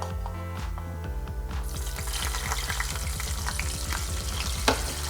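Kipfler potatoes crackle in hot oil with a soft, continuous sizzle that grows busier partway through, sitting under a rhythmic, pulsing low hum.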